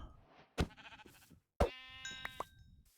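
Two distinct sheep bleats from the Minecraft video game, each a short wavering cry separated by a pause, close and clear with no talking.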